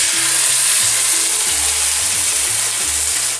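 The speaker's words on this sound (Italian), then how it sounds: "è arrivato il momento di aggiungere il sugo" Tomato sauce poured into a pan of softened, sizzling aubergines, giving a loud, steady frying hiss with low bubbling pops throughout and no talking.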